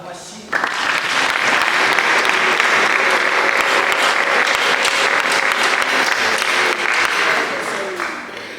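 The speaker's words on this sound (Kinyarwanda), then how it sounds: "Yego se twakomera Imana amashyi." A church congregation breaks into loud, sustained applause that starts abruptly and keeps a dense, even clatter of clapping for several seconds before easing off, with a voice running beneath it.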